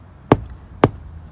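Two crisp taps land on a canvas tightened with a heat gun, sharp isolated knocks about half a second apart with a slight drum-like bounce and quiet room tone between them.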